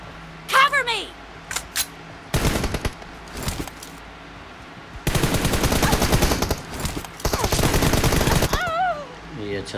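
Bursts of rapid automatic gunfire crack out in Battlegrounds Mobile, with short volleys early and a long sustained stretch of fire later, mixed with whooshing game effects and a voice speaking over it.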